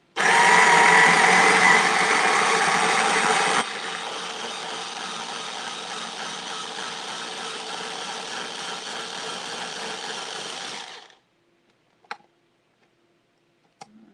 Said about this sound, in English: you can use a little food processor, which is what I have here